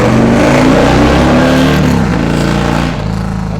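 A loud motorcycle engine roars past close by on a road in Missouri, its pitch sweeping downward as it moves away, with no talking.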